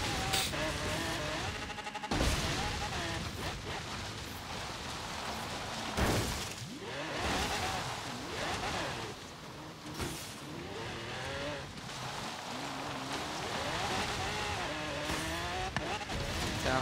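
Forza Horizon 3 car drifting with continuous engine roar and long tire skidding squeals, loud and sustained, engine pitch rising and falling as the game car slides through turns.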